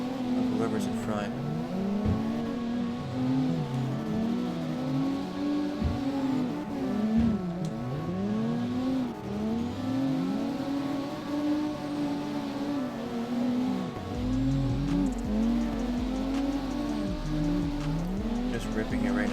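A Mifune car drifting in CarX Drift Racing Online, its engine revving hard in second gear, pitch rising and falling repeatedly as the throttle is worked, with someone talking over it throughout.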